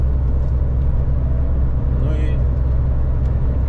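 A truck drives along a highway toward Kyiv, a steady loud low engine and road rumble filling the cab, with a brief higher whine midway.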